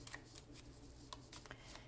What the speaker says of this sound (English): what I normally do is I shuffle the cards a bit